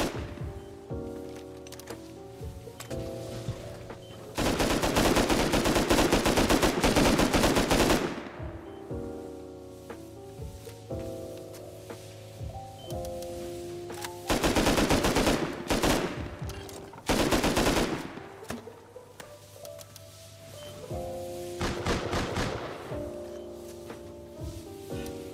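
Automated turret firing in the video game Rust: loud, rapid bursts of automatic gunfire in several long volleys, separated by quieter stretches of game sound with a repeating tonal music or ambience underneath.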